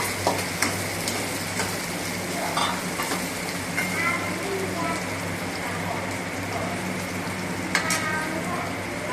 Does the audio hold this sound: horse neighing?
no